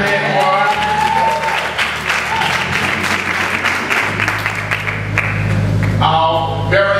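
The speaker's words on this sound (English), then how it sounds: "clap your hands, bro" An audience at a church service claps steadily while someone talks over it at the start and a voice returns near the end, the applause forming a dense, continuous layer beneath low musical tones.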